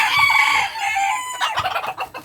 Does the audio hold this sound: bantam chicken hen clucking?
yes